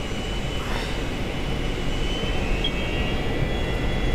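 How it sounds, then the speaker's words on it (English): Jet engines of a 1976-built Douglas DC-9 cargo airliner spool up to takeoff thrust, a steady, loud, broadband roar with a faint high whine, heard from the cockpit without talk. "Take off thrust is set."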